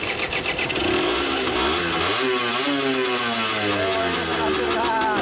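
A 1997 Honda Ape 50cc motorcycle, customised to look like an 80cc cafe racer and fitted with a BMS-R aftermarket exhaust, idles close by, then revs up and down repeatedly with a rough, buzzy note while people talk over it.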